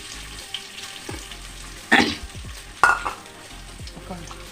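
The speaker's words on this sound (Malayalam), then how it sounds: "ഇഞ്ചി ഇട്ട് കൊടുക്കുന്നുണ്ട്." Ginger frying in a pan for chicken curry: a steady background sizzle broken by two sharp, loud hissing bursts as ingredients hit the hot oil, with faint stirring between them and no voices.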